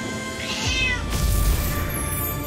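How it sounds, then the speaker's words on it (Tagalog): A fat cat lets out a short, loud meow that rises and falls, up close within a brief stretch of a narrated Filipino fairy tale, with a soft thump and a steady low hum underneath. "ang matabang pusa."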